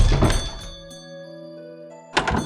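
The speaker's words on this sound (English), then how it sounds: "when you enter or leave a shop, they'll give off a little chime, much like real-life shops" A shop door bell chime in a Morrowind mod, heard as a sustained ringing tone that rings out and fades between louder bursts of game ambience, with no talking.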